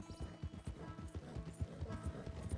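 Horse hooves galloping in Red Dead Redemption 2, a steady quick rhythmic clip-clop of close, moderately quiet hoofbeats with faint creaking tack and wagon mechanics beneath.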